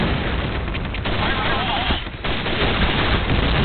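Loud, close gunfire from a video game, a continuous barrage of shots and blasts with a brief dip partway through, with voices talking over the din.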